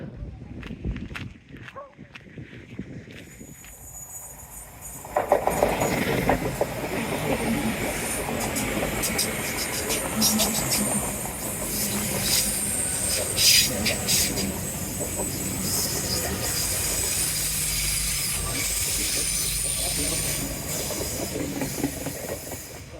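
A train rumbles past on seawall rails, loud and steady for about twenty seconds with hissing and clattering wheels after a quieter start.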